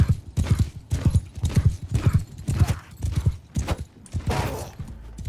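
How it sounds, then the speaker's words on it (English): Horse hooves pound in rapid, regular clip-clop beats during a mounted charge in the medieval combat game Mount & Blade II: Bannerlord, loud and close, with battle noise underneath and no one talking. "You can notice how fast the horse is now."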